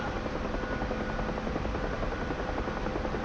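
A UH-1 Huey helicopter flies in the DCS combat flight simulator, its rotor a steady, fairly quiet whirring drone that continues unchanged throughout without voices.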